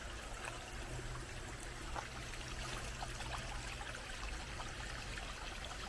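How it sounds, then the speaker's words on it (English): A small woodland stream trickling into a creek along a hiking trail, a steady close babble and gurgle of running water throughout with no talking. "Sometimes you'll come across these little streams that go into the creek."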